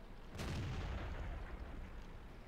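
A tank gun booms once in World of Tanks, a loud low blast near the start that rolls off into a long rumbling decay under continuous battle noise.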